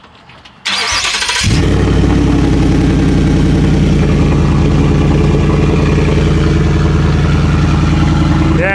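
A 2023 Ford F-150 with a 5.0-liter V8 and muffler and resonator deleted fires up with a sharp burst, then settles into a loud, deep, steady rumbling idle close by, with no talking.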